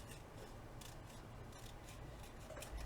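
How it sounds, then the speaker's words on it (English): Scissors cut down paper for a handmade seven-pocket mini album, a soft crisp snipping repeated several times at close range, fairly quiet and with no talking. "I'm going to cut this down"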